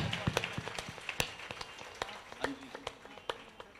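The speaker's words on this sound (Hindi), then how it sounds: "आप लोगों से चाहूंगा भव्य कलश यात्रा की जोरदार तालियों से स्वागत करें।" An audience claps at a Radha Krishna temple gathering: scattered, irregular sharp claps of modest loudness over a few seconds, with talk faintly beneath.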